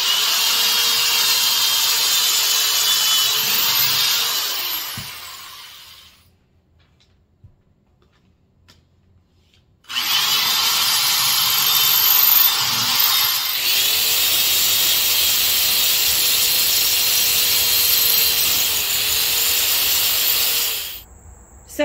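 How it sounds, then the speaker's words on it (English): A power drill whines loudly as it bores holes through wood for hanging shelves, running for several seconds, stopping briefly, then drilling again in a long steady stretch. "I'm gonna take my drill bit, and I'm gonna drill right through the wood"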